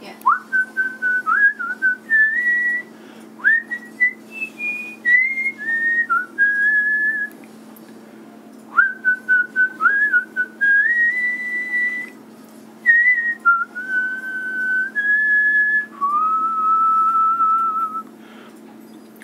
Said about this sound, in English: With a visualizer, you can watch the whistle move.